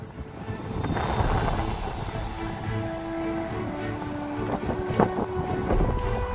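Steady headwind roars across the microphone while cycling east on a long prairie ride in Manitoba, a constant loud buffeting rush with faint rattles and thumps underneath.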